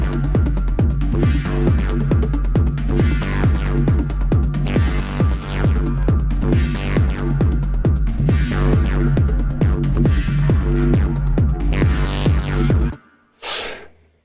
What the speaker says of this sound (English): sort of a techno track on which I've applied Dist COLDFIRE to every single element